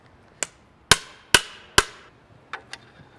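A star nut is hammered into a bike fork steerer: three sharp, ringing metallic strikes at an even pace, followed by two lighter taps, close and loud in a quiet room.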